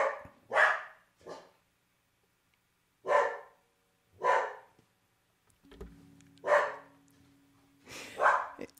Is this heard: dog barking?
yes